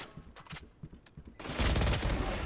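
Rapid gunfire in a Valorant match, scattered shots early on, then a dense, loud burst of sustained automatic fire filling the second half.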